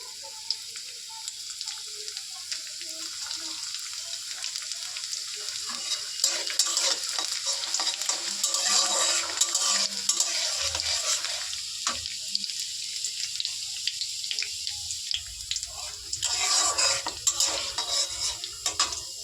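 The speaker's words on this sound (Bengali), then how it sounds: "এবার এতে দিয়ে দেব রসুন কুচি দেখো আমি রসুন কুচিটা দিয়ে দিচ্ছি এর মধ্যে" Chopped garlic fries in hot refined oil while being stirred, a steady hiss and crackle with scraping stir strokes, close and moderately loud throughout, no talking.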